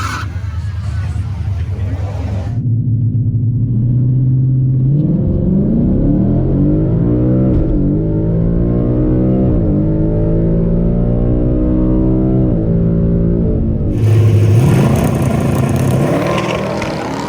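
Ford Mustang drag cars, a 2020 Mustang GT and a Foxbody, on a drag strip at night: a loud engine revs, then pulls hard through rising, shifting gears for a sustained run, with a fresh burst of revving near the end.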